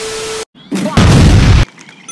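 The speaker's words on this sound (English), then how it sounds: "Airstrike. Bomb. Bomb them." Video game airstrike in Heroes Online World: a loud broadband boom and crash of bomb explosions lasting about a second after a short gap, with a brief earlier burst and faint game sounds trailing off.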